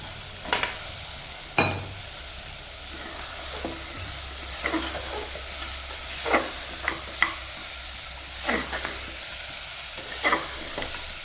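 Mutton trotters sizzling in a hot pan with ginger-garlic paste for a goat-leg curry, a steady frying hiss broken by several sharp clatters and scrapes of stirring, close and fairly loud with no talk.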